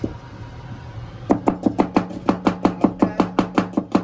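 A knife chops medium-sized onions on a board in a steady series of about fifteen sharp, even cuts. The chopping is close and crisp, with no talk.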